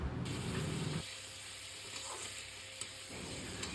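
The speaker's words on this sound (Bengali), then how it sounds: "তারপরে দিয়ে দেব পেঁয়াজ, দিয়ে দেব কিছুটা আদা বাটা, কিছুটা রসুন আর কাঁচা লঙ্কা বাটা। সমস্ত কিছু দিয়ে ভালো করে একটু নেড়েচেড়ে কষিয়ে নেব।" Onion, ginger-garlic paste and green chili paste sauté with whole spices in a pan for a Kolkata-style biryani, giving a close, steady sizzle with stirring and scraping sounds and no talk.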